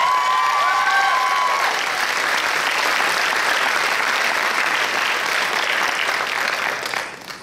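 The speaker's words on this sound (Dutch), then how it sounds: "Geef ze een applaus, Olivia Talaronic." An audience at the Miss Fashion 2020 pageant applauds as a jury member is introduced, a dense, steady clapping that holds for several seconds and then tapers off at the end.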